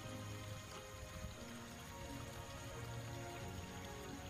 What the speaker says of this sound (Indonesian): Petir menyambar di kala hujan lebat.